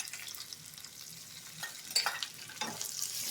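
Crushed garlic and curry leaves fry in hot oil, making a quiet, close sizzle with scattered crackles and small spits that grow busier toward the end.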